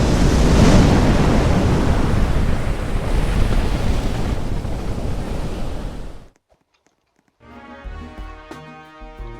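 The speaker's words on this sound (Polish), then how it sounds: "To było tsunami. Gigantyczne tsunami." Loud, roaring rush of crashing water and wind from a tsunami wave in a Roblox game that suddenly cuts to silence, followed by quieter layered tones.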